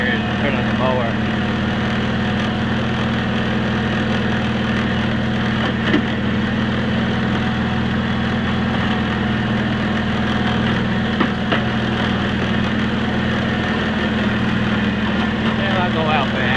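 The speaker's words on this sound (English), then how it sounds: "Go over to this patch of grass over here and turn on the mower." A Cub Cadet 782 riding lawn mower engine runs at a steady, loud idle close by, its low droning hum continuous throughout, with faint scattered clicks and no spoken words.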